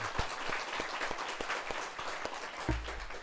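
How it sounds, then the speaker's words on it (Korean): A church congregation applauds in encouragement during a service, a steady patter of many hands clapping that fills the room for a few seconds. "격려의 박수 한번 쳐주세요"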